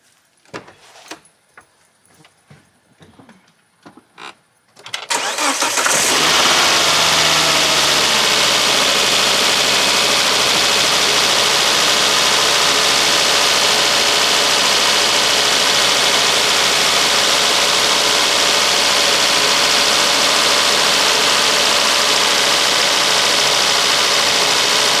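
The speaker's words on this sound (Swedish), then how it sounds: "då ska vi ta och starta bilen får vi se hur den låter och går på tomgång här." Clicks and rattles come first, then a car engine cranks and catches after a mass airflow sensor cleaning, settling into a steady, even idle that drones on alone for the rest of the clip.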